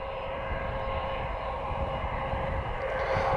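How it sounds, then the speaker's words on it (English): An EasyJet Airbus A319 jet airliner coming in to land at Lisbon Airport, a steady, broad engine roar holding at moderate distance throughout with no talk. "another flight from EasyJet Europe. A very lovely A319"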